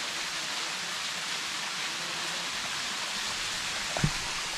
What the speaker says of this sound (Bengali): ওই ঝর্ণা